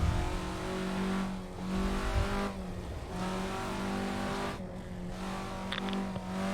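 Alfa Romeo GTA engine revving hard in a racing video game at Thomson Road, a steady loud drone rising and dipping with gear shifts, with tire noise and no talk.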